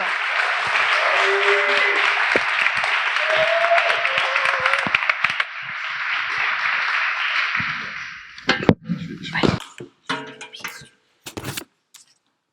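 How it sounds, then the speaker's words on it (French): An audience on stage at a Paris demo-day event breaks into sustained applause that fills the room for several seconds, then fades to a few scattered claps and handling knocks. "Un tonnerre d'applaudissements pour Lee qui a développé cette application et qui me rejoint sur scène."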